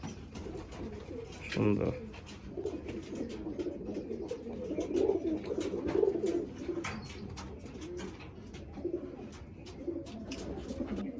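Pigeons coo low and steadily in a loft, with a burst of fluttering or a sharper call early on, under someone talking close by.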